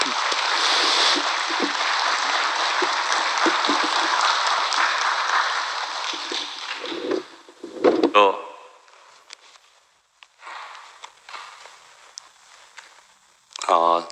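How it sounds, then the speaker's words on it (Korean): Church congregation applause of welcome at a Daegu church service, a dense burst of clapping for about seven seconds that fades out, followed by scattered knocks and brief speech. "우리 환영의 박수 한번 보내주시죠"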